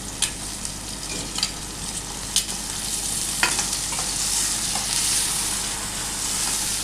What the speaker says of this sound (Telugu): స్వీట్ కార్న్ కూడా బాగా ఫ్రై అవ్వాలి